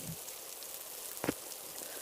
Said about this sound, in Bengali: ইস, কি বৃষ্টিটাই না শুরু হলো